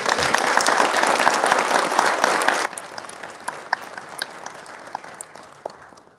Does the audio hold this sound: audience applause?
yes